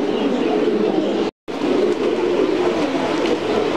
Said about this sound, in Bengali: আপনারা যাদের কবুতর লাগে পাখি কবুতর, এগুলা দেলোয়ার ভাইয়ের কাছ থেকে সংগ্রহ করতে